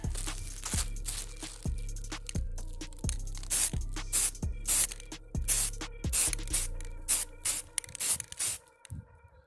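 Spray paint hisses onto a toilet seat in repeated short, close bursts, each blast separated by brief pauses, with rattling can and rustling between sprays.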